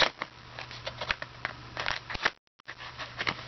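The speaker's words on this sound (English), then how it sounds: "You can get the scissors back here then. Crack open this box." Close, quiet snipping and scraping of scissors working through cardboard, a steady series of small cuts with a brief pause partway through.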